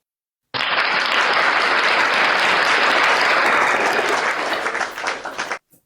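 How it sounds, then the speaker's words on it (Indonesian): Sudden, loud applause from a gathered audience at a Friday Bible study session. The clapping holds steady for about five seconds, then thins out and stops abruptly. "Betul, terima kasih. Tepuk tangan."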